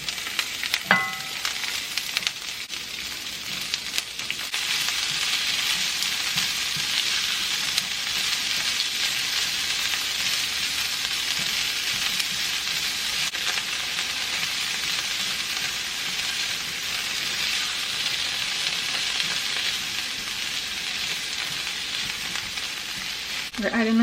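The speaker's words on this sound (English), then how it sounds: "I'm just going to add a small amount of olive oil in here just to grease the pan" Vegetables frying in a little olive oil in a pan make a loud, steady, hissing sizzle that continues unbroken for a long stretch, close up, with a few faint clinks.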